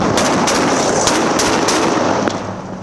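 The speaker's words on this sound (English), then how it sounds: "Shots fired!" Gunshots ring out during a police bodycam encounter, about six loud, sharp reports in an uneven rapid sequence, harsh and close over a noisy background.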